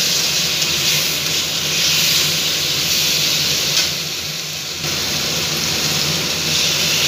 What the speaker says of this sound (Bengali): সিম আলু অল্প ভালো করে কষিয়ে নেব।